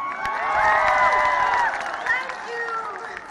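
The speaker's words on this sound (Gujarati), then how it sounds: "પ્લીઝ એકવાર જોરદાર અમિત શાહ પટેલ માટે તાળીઓ થઈ જાય." A crowd at a Navratri gathering claps and cheers loudly for Amit Shah Patel. Shouting voices rise over the applause, then it tapers off near the end.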